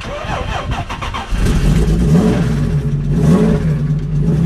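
A Supra's engine cranks and catches after about a second, then settles into a loud, rough idle with a slight rev, close by.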